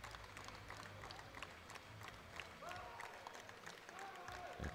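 Crowd at an IPF World Open powerlifting meet applauding and cheering in a steady, distant-sounding wash, with faint whistles or calls rising near the end.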